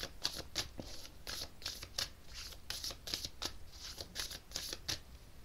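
Cards are drawn and handled during a tarot-style reading, giving quiet, close, irregular rustles and soft slaps in quick bursts, with no talking.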